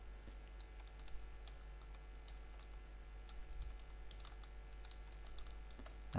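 Light typing on a computer keyboard while entering text in Microsoft Word: sparse, faint key clicks in an irregular rhythm over a constant low electrical hum.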